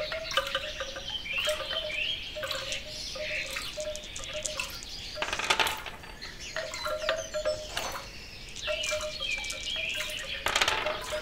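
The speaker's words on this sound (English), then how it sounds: "First, focus on the water dropping." Water dropping in a layered ambient soundscape, with faint, steady drips and patters under intermittent bird chirps and brief bursts of other sounds, quiet and continuous with no talking.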